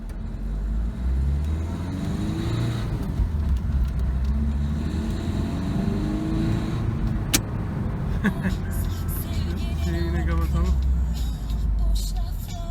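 Citroen C-Elysee with a 1.6 engine rolling along a neighbourhood street off the throttle, a steady low engine and road drone filling the cabin while someone talks continuously over it.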